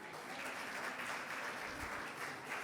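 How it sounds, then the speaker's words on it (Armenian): An audience applauds at a final competition and award ceremony, a faint, steady wash of clapping from a distance that holds throughout with no voices over it. "ծափահարենք"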